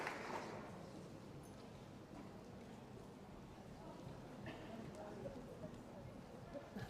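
Horse hooves clip-clop steadily on an arena surface during a junior vaulting competition, a continuous soft rhythmic patter at moderate distance beneath crowd ambience and a commentator's voice.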